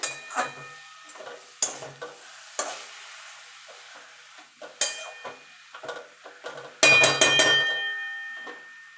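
Chickpea greens fry in a pan while a spatula stirs them, with several separate scraping strokes and clinks against the pan, close and fairly loud, ending in a burst of sizzle.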